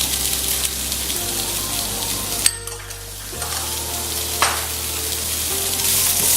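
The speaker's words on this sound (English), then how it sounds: "To our onions now that they've become translucent, I'm going to add our corn and also our red pepper." Corn and red pepper hit a pan of translucent onions, sizzling steadily and close, with a couple of sharp scrapes of stirring partway through and no speech.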